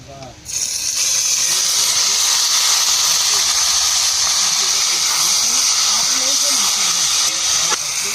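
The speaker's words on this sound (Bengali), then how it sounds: "কড়ার মধ্যে তেল দিয়ে দেবো। শুকনো লঙ্কা ফোড়ন করব। এবার মাখানা চিংড়ি মাছটা দিয়ে দেবো।" Marinated shrimp hit hot oil in a kadai tempered with dried red chili, giving a loud, steady sizzle and hiss that starts abruptly and holds without pause for several seconds.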